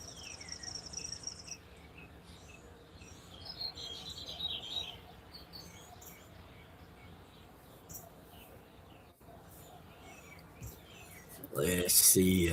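Faint bird chirps and calls flicker over a low steady air-conditioner hum, with a voice speaking softly and a louder burst near the end.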